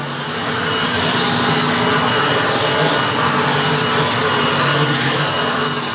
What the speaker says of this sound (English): So far, performing well both as a blower and a vacuum.